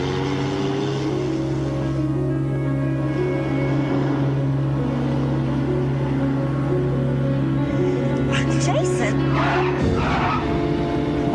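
A car engine revs steadily under tense voices, then tires squeal sharply near the end as the car pulls away fast.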